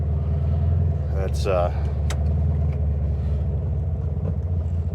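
A Volkswagen Beetle engine that hasn't run in a while idles while warming up, a close, steady low chugging rumble throughout, with someone speaking briefly over it.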